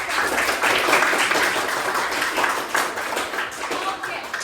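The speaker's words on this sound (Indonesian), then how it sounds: "Tepuk tangan untuk saya." Classroom of students clapping their hands together, a loud, close, continuous burst of many overlapping claps with a slight rhythmic pulse, a few voices mixed in.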